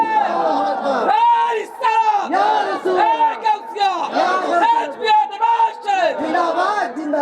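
A large crowd at an outdoor Islamic religious gathering in Mulgram Dakshinpara roars a takbir response in unison, many voices shouting together in repeated rising-and-falling waves that fill the whole stretch loudly.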